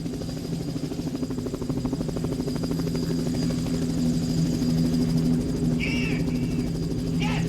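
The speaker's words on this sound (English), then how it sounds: "Sounds like a helicopter." A steady, low rhythmic thumping of a helicopter rotor drones throughout, moderately loud and continuous, with a brief higher chirp near the end.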